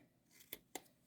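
Card stock for card making is being cut, giving two quick, crisp scissor snips close by against a faint, quiet background.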